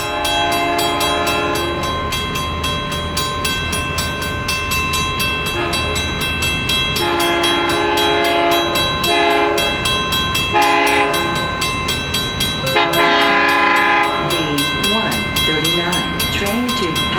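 A Long Island Rail Road train led by DM30AC locomotive 522, bound for Patchogue, rumbles loudly past with repeated blasts of its horn and rail clatter, under a busy station background with some voices.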